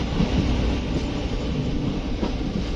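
Steady loud rumble of the Chennai Central to Kottayam express, a Southern Railway sleeper train, running on the tracks in heavy rain, with a constant roar and faint rhythmic wheel clatter throughout.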